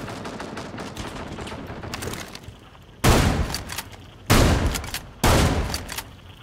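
Shotgun blasts in the video game Rainbow Six Siege on the Hereford map: three loud, sharp booms spaced about a second apart, following a stretch of busier, lower-level gunfire and game noise.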